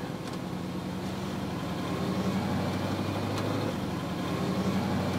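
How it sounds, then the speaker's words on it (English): A car on a road test after transmission valve body work hums along at a steady, even engine and road drone, with no talk. "Let's road test the vehicle and check its new performance."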